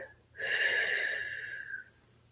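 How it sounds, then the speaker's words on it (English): A single deep, audible breath, drawn in and let out for about a second and a half, close and fairly loud against a quiet background, with no talking. "I do something as simple as a deep breath in"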